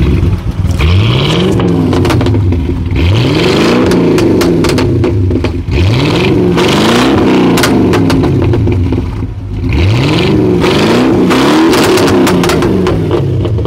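A Mercedes-AMG car engine revs hard in repeated bursts, each rising and falling sweep loud and close, with a deep rumble between the throttle blips.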